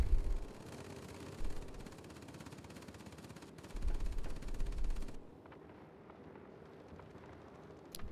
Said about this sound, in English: There's the front gun firing. There's the top turret firing.